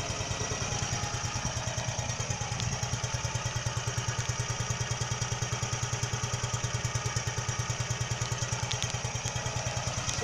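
A 1961 Heinkel Tourist 103A2 scooter engine runs close by, with a fast, even single-cylinder putter that holds a steady idle throughout.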